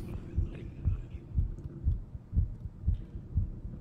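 Muffled, throbbing heartbeat pulses in a horror video game, about seven evenly spaced double thumps under a low hum, close and steady with no voices.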